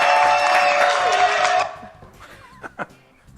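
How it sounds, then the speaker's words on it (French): Studio audience on a French TV show breaks into loud, dense applause that fills the room for a moment, then drops away abruptly, leaving a quieter space with faint laughter and stray sounds. "Applaudissements."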